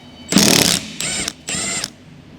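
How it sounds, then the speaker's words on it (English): An impact wrench with a 13mm deep socket removes the rear tailgate wiper of a Jeep Wrangler: one longer loud rattling burst, then two shorter ones, close up with no voices. "Using a 13mm deep socket with an impact wrench, remove the rear tailgate wiper."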